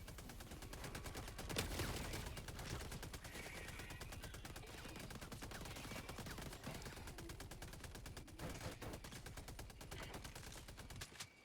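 Rapid, sustained machine-gun fire from an automated sentry in the video game Helldivers 2, a dense continuous stream of shots with brief louder bursts, heard alone without talk.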